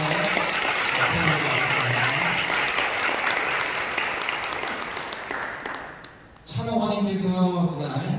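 A church congregation at a youth and university students' worship service gives a big round of applause for the pastor's wife, sustained loud clapping from many hands that fades briefly before a voice and more sound return.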